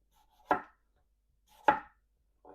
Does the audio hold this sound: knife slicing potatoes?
yes